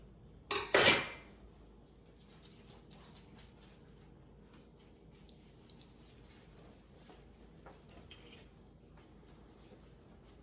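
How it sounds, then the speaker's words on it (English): Dishes, pots and cutlery being washed while making Dutch oven honey oat bread: one loud clatter near the start, then repeated light, bright clinks and taps of metal and crockery, close and without talk. "So I'm gonna wash some dishes."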